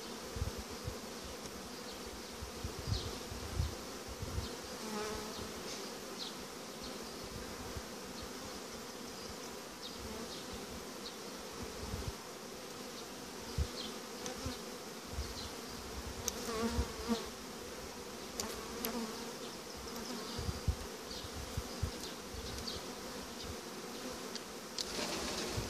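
Dense, steady buzzing of honeybees swarms around an opened hive whose heavy upper box is full of linden honey, the drone continuous and close throughout with no voices.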